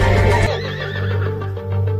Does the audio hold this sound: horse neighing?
yes